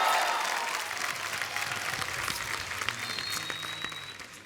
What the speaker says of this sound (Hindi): आप सबकी जोरदार तालियों के बीच उनको यहां बुलाते हैं।